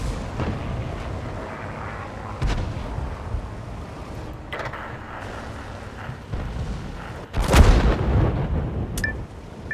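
Heavy artillery fire in the tank game World of Tanks: a few scattered booms in the first half, then one loud, close blast near the end followed by a rumbling tail, with no talking.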